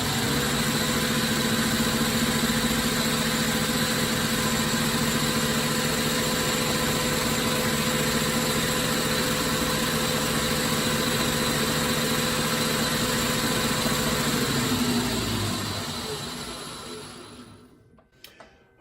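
Lathe boring bar taking a light scrubbing cut inside the bearing pocket of a spinning top, a steady loud machine hum and whine that holds unchanged and then winds down and fades out near the end.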